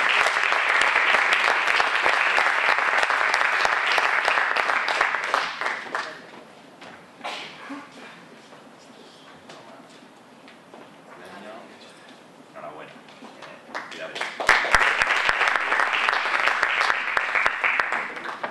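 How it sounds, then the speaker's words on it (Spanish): An audience applauds a winner at an architecture competition awards event: a loud burst of clapping for several seconds fades to quieter talk and a few claps, then a second strong round of applause swells near the end. "un aplauso para ella"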